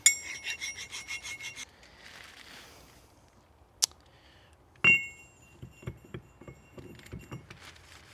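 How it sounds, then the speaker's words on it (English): A metal file scrapes over a new rear axle end housing to remove burrs. Quick, close, rhythmic rasping strokes come first, then a pause, a sharp clank, and a few scattered scrapes and taps at low volume. "Grab a file."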